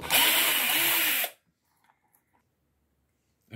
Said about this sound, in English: hand powered screwdriver